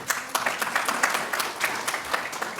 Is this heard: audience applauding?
yes